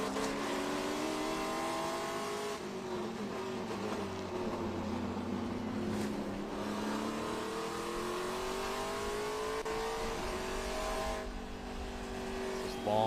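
A Trans Am race car at Road America climbs a hill and sweeps through turns, its engine note rising and falling in long swells, loud and continuous.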